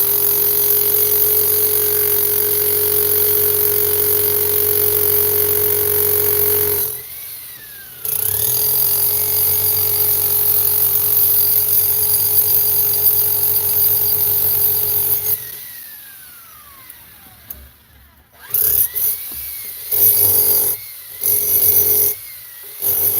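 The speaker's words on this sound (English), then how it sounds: "Now that we got a good hammer drill, which just takes chunks of this stuff" A hammer drill breaks up a huge concrete slab with sustained, loud, droning hammering in long bursts. Brief pauses separate the bursts, and short choppy bursts come near the end.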